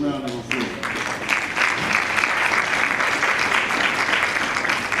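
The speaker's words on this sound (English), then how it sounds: "Give them a round of applause." Audience applause at a school board meeting, a steady burst of clapping from a roomful of people lasting several seconds, with a voice briefly audible at the start.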